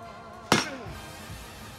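A single sharp, heavy thud as a welded steel warhammer strikes PVC pipe and foam armor, a bright impact with a short rattling decay, then quiet.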